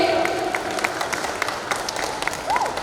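Loud applause from an audience at a film song launch event for the movie Gauri, a dense sustained wash of clapping with sharper individual claps and a brief whistle rising above it.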